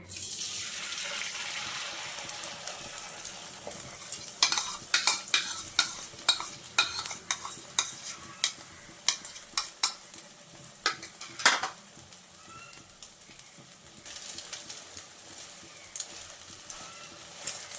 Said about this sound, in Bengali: এখন আমি ফেটিয়ে রাখা ডিমটা ভেজে নেব